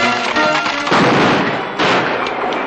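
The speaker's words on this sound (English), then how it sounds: "Them's gunshots." A dense, loud burst of rough, crackling noise with sharp hits that swell around the middle and again later, like gunshots echoing in the open.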